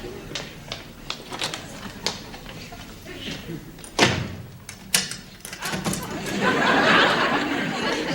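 A door shuts with a sharp thud partway through, followed by further knocks and clatter as it is locked, amid studio chatter and laughter on a 1967 television variety show.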